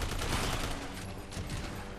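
Dense, continuous gunfire from Resident Evil 6, a sustained fusillade of overlapping shots that stays loud and steady for the full two seconds, with no clear talk over it.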